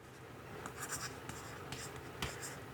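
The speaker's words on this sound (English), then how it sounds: "So let's see what happens when I write something." A pen scratches across a matte paper-like digital tablet screen, faint close-up scribbling strokes in short bursts against quiet room tone.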